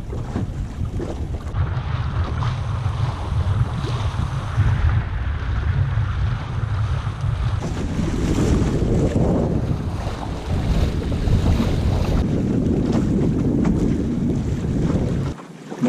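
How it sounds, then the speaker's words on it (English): A small sailboat with a newly fitted jib sails through open water on a nice day, its hull rushing and sloshing steadily through waves while strong wind buffets the microphone throughout. "Feels like it's just moving through the water more efficiently."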